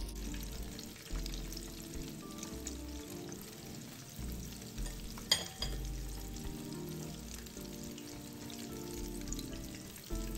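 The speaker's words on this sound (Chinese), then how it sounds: "然后放入油锅内，油炸至金黄色即可。" Meat rolls coated in cream cracker crumbs deep-frying in hot oil, a steady dense sizzle and bubbling throughout with a brief clink near the middle.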